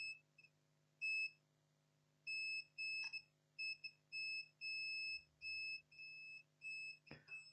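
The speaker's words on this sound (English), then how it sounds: "These capacitors which are beeping" A multimeter's continuity tester beeps on capacitors of a Lenovo ThinkPad T450 motherboard that will not power on, in a series of steady high tones of varying length, with short gaps and a few faint clicks in between.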